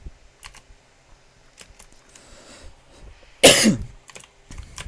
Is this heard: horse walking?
no